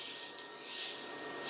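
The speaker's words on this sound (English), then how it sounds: "the sizzling is because of the small amount of water still in the butter" Butter sizzles and melts in a pan on an induction hob over medium heat, giving a soft, steady hiss that swells slightly toward the end, heard alone without talk.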